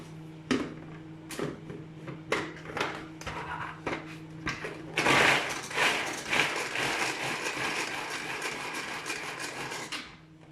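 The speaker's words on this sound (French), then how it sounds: "On va mettre la moitié du paquet, on va mixer" Half a packet of food whirring in a kitchen blender, a loud continuous buzz that starts midway after several sharp knocks and clatters, runs steadily and cuts off near the end.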